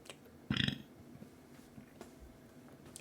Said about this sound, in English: excuse me for burping